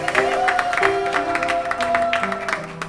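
Church congregation clapping during a worship service, loud rhythmic applause layered over sustained singing or organ-like tones that step between notes.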